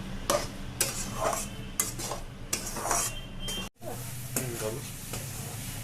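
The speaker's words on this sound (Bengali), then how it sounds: "এটাকে কড়াতে বসালাম, এবারে এটাকে আমি নারকেলের ছাই বানিয়ে নেব।" Grated coconut filling is stirred and fried in a wok. Repeated scraping strokes of a utensil against the pan come in an uneven rhythm over a soft sizzle, close and fairly quiet, with a brief gap near the end and a voice speaking at times.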